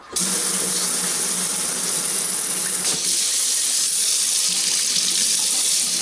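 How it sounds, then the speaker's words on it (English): An OnlyKey security key is rinsed under warm water from a tap, producing a steady, loud, unbroken rush of running water for the whole stretch. "I'm just going to rinse this thing off, just get all the dirt off."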